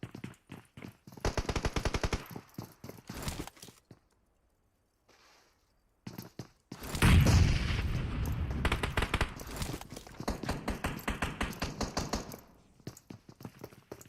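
Automatic gunfire from the battle royale video game PUBG Mobile crackles in rapid bursts, with sparse early volleys, a pause, then a loud, dense stretch of sustained firing.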